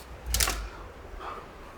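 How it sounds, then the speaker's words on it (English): A single short, crisp snip near the start as soft aluminum bonsai wire is cut to length with pruning tools, followed by a faint metallic rustle; close and quiet, with no talking. "So let me just cut the wire to length."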